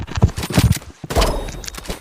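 Sniper gunfire in the Roblox game Rivals, a few sharp loud shots and impacts in quick succession with a short gap, crowded by other game noise.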